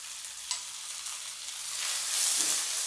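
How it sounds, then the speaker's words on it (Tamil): Chopped onions sautéing with salt and fennel seeds in a pan for Tamil-style poori potato masala, a steady close hiss and sizzle with soft stirring scrapes that swells louder near the end. "வெங்காயத்தை போட்டு நல்லா வதக்கிங்க"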